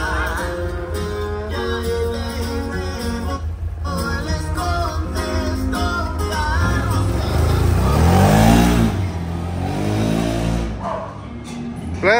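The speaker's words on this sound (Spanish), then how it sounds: "la moto ya prendió" A motorcycle engine idles and then revs up strongly, rising and falling in pitch a few times before settling back, loud and close.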